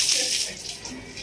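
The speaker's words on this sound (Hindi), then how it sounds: "देख लो हमारे घर में फव्वारा चल रहा है।" Water sprays like a fountain inside a house, a steady close hiss and splash running continuously throughout.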